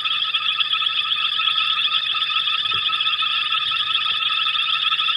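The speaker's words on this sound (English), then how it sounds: "while you listen away to these wonderful frogs" Frogs call at a dam at night on a safari drive, a dense, steady chorus of high trilling croaks that carries on without a break, with faint low rumbles underneath and no talking.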